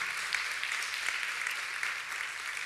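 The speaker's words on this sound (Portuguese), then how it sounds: "Você pode aplaudir essa orquestra bonita aqui?" A church congregation applauds its orchestra, a steady even patter of clapping heard at a moderate distance, quieter and without voices.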